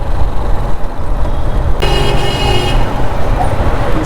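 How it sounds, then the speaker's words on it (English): Loud traffic jam in Cairo's City of the Dead, Egypt: a dense, steady roar of car and truck engines close by, cut through by one sustained horn blast lasting about a second. "Okay, we have a traffic jam up here."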